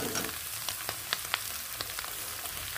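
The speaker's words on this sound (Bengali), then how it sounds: "এবার মূলোটা দিয়ে একটু ঢেকে ঢেকে 5 মিনিট আমি ভেজে নেব।" Radish pieces fry in a pan with turmeric and salt, a soft continuous sizzle dotted with small crackles and pops, close by and without talk.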